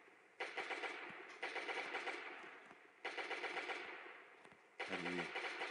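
Automatic weapon fire from the player's gun in the video game Last Day on Earth, rapid bursts that start and stop in four separate stretches, loud and close, with a brief low rumble near the end.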